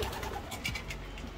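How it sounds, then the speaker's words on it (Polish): Pigeons in a breeding loft, among them breeding cocks, hens and young birds, coo softly and repeatedly at a low level, with a few overlapping calls and no talking. "Tu akurat mamy gołębie."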